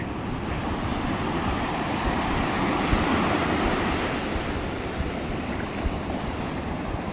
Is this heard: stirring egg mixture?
no